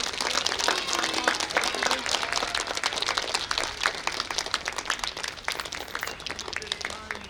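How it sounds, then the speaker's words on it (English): A school audience claps after a BMX stunt showcase, sustained, busy clapping from many hands lasting throughout at an even level, with a few voices blended in. "how about one more round of applause for the"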